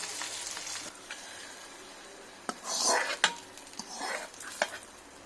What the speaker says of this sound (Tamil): கிளறி விட்டுடலாம்.